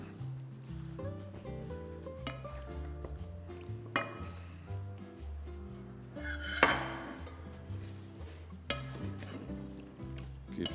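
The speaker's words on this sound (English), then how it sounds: "Keep stirring it" A metal utensil clinks and scrapes against a pot in irregular strokes, with music playing softly in the background.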